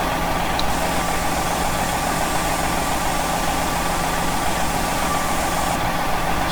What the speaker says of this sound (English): So we're going to try running the old Detroit diesel and see how you like that.